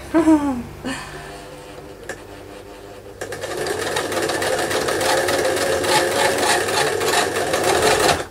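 A sewing machine runs steadily with a fast mechanical whirr and clatter, starting after a few brief knocks and continuing close and moderately loud.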